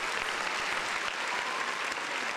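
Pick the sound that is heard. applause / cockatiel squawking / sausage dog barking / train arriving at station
applause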